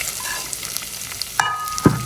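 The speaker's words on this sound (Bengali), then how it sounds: "তেল গরম হয়ে গেছে, এবার আমি পেঁয়াজ দিয়ে দেব।" Onions go into hot oil in a pan for an egg bhuna curry, with a soft sizzle, a few light clicks, and a sharp thud near the end as they drop in, followed by a rising fry.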